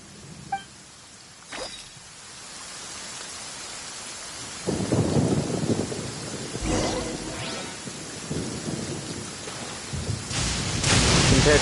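Stormy rain and rolling thunder in Genshin Impact, a steady rain hiss that swells louder partway through, with deep thunder rumbles and crackles breaking over it.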